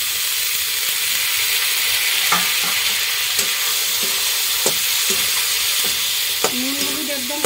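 Peas and vegetable stalks sizzle and fry in a pan for a tengra fish curry, giving a continuous hiss broken by occasional stirring clinks and scrapes.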